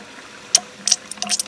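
Electric water pump on a BMW 3 Series cycling on and off while bleeding air from the cooling system, giving soft gurgling, bubbling liquid sounds in a few brief bursts over low background noise.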